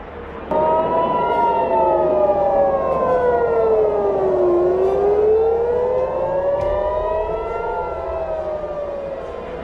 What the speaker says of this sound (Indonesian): sirine peringatan serangan udara kembali memekakkan telinga